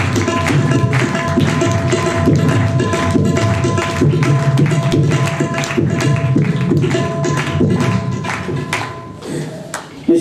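Applause from the congregation at a church peace and justice commission event: dense, continuous clapping from many hands, loud and close, which thins out briefly near the end.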